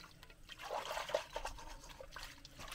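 Hot water trickling and dribbling on a rural Philippine property, a soft irregular splashing and running sound, quiet and close, with no voices.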